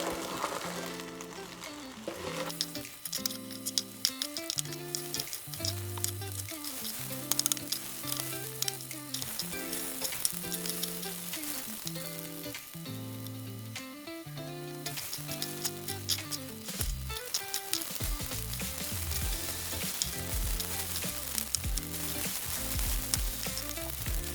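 Fried rice with egg sizzles and crackles steadily in an electric wok as it is stirred, a dense continuous frying hiss with music playing over it throughout.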